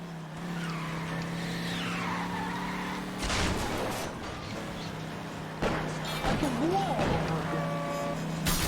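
A stolen car in the video game L.A. Noire pulls away with loud tire squeals and skidding over a steady engine drone, the screeching sweeping up and down, with brief bursts of crashing noise midway and near the end.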